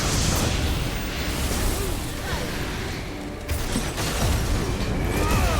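An explosion during Final Fantasy XVI gameplay: a dense, roaring burst of broadband noise that stays loud and rumbling for several seconds, with a short dip before it swells again.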